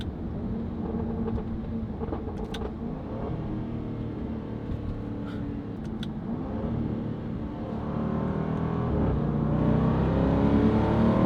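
A deep, throaty engine rumble from a Range Rover SVR with a Valvetronic Designs performance exhaust, valves open, builds steadily as it revs and accelerates, growing louder toward the end, with no talking.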